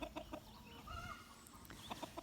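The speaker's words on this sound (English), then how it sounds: "my birds are acting up here" Pet chickens cluck outdoors in a run of soft repeated clucks near the start and end, faint and mid-distance against a low background rumble.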